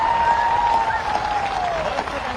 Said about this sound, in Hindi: दोनों हाथ ऊपर उठा के ताली बजा के अपनी सेना को सम्मान दो